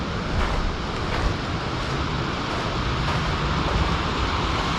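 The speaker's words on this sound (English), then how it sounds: "Fish Creek itself is running really strong" Fish Creek along the Apache Trail running high in spring, a broad continuous roar of rushing water that stays even and close throughout, with no voices over it.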